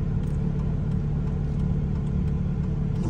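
A car coasting slowly backward off a curb in reverse without gas, its engine idling as a steady low rumble, close and continuous with no voices.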